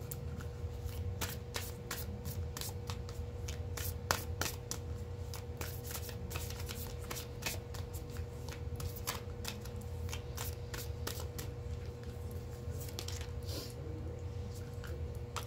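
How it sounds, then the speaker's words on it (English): An oracle card deck is shuffled by hand in a quiet room, giving a steady run of soft, rapid card riffles and flicks that continue throughout over a low background hum. "Get you another oracle card out here from a different deck"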